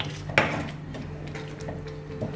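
A spoon stirs paneer butter masala gravy in a pan, with one clear clink of metal against the pan, then a soft, low scraping and mixing over a steady kitchen hum.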